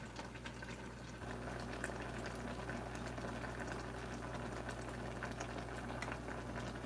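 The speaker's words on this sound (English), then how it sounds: "I shouldn't be boiling my tea." Water at a rolling boil, a steady bubbling and hiss with a low hum underneath, continuous and close.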